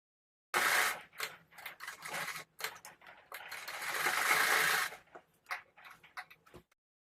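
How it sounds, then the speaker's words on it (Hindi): A sewing machine stitches the seams around a salwar waistband in bursts, stopping and starting with rapid mechanical clatter, one long run in the middle, close and clear with no talk. "जो गैप रखा है उसके तीनों तरफ सिलाई लगा लेंगे"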